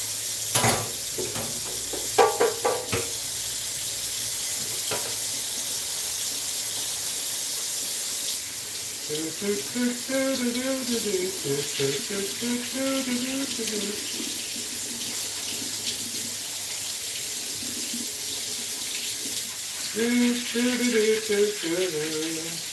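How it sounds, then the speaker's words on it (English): A kitchen tap runs steadily while soap is rinsed off a plate in a sink, a continuous close water hiss with clinks and splashes, and a voice speaks briefly over it at times. "To get all this soap off this plate."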